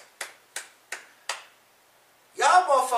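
Four sharp, evenly spaced hand claps ring out close and alone, followed by a brief burst of a raised voice.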